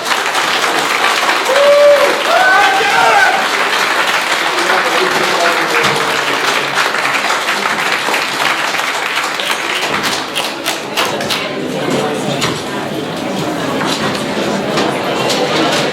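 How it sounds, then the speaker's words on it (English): An audience at a 2017 mayoral race forum in a senior center applauds at length, a loud, sustained wash of clapping with scattered voices and sharper individual claps as it thins toward the end. "One last round of applause for everybody here."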